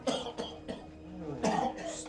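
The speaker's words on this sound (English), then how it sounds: "Starts with a cough." A few harsh coughs and throat clearing from a nearby person, with speech mixed in between the bursts.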